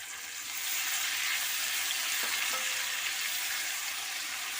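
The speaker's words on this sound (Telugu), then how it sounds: "మెంతికూర, ఈ ఆనియన్ బాగా మళ్ళీ వేగాలండి" Fenugreek leaves and onion with curry leaves frying in a pan for a boti curry, giving a steady broadband sizzle throughout with a couple of faint utensil clinks, no talking.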